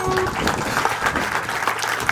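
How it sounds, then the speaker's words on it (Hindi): An audience at a Ganesh Chaturthi religious gathering claps loudly to welcome a guest, with dense, sustained applause close by for the whole stretch. "सब जना जोरदार स्वागत में ताली बजा दो"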